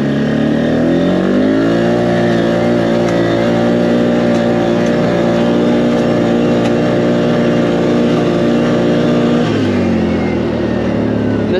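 A Can-Am Outlander 450 ATV engine pulls up a hill on a trail ride, a loud, close, steady droning roar that rises in pitch and holds under load, then drops back near the end.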